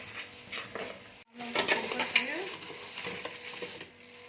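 Rice being stirred and tossed in a pan, with scraping utensil strokes and a soft sizzle, briefly pausing before resuming in close, uneven bursts.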